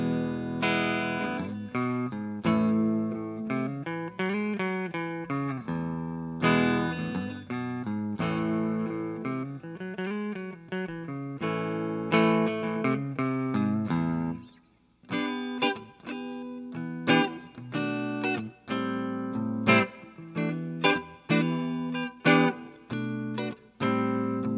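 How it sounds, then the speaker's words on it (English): Clean electric guitar notes and chords from an Epiphone Les Paul Special II on the neck pickup, with a light reverb tail, steady strumming and picked phrases, with a brief pause midway. "here's a clean tone. Give it a little reverb."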